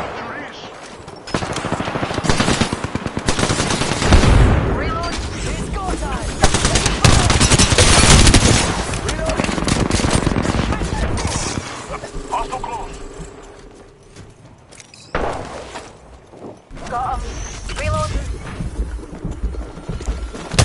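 Rapid gunfire from an Apex Legends firefight, with bursts of automatic shots and impacts loud and close for long stretches, broken by brief lulls, while voices call out over the action.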